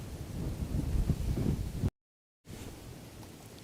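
Strong, steady wind buffeting a microphone outdoors in Toronto with a low rumble, cutting out briefly to silence before resuming more faintly.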